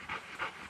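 A hunting dog panting after a long retrieve, rapid rhythmic breaths in about three close, moderately loud bursts with no talking.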